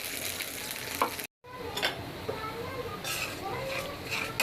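Small shrimp hit hot oil with onion, ginger and garlic paste in a home kitchen, giving a steady, close sizzle and crackle with a brief dropout and occasional stirring scrapes.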